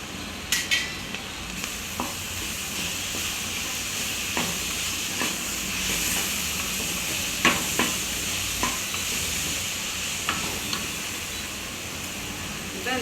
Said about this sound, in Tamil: இப்போ 1 ஸ்பூன் சாப்பாடு தேவையான தயிர் ஊற்றிக்குவோம்ப்பா.